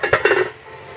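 A metal lid clatters onto a pot of spicy peach salsa jam at a hard boil, giving a few quick close clinks and knocks within half a second before the kitchen goes quiet.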